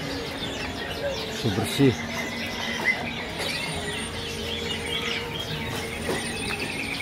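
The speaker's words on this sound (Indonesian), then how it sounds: "sehat-sehat burungnya" Birds chirp and coo throughout a busy bird market, pigeons or doves among them, with a steady chorus of calls under people talking nearby.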